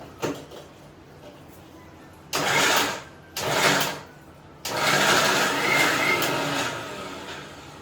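A mixer grinder whirs in three loud bursts, two short pulses followed by a longer run, coarsely grinding coriander chutney, with a voice talking faintly between runs.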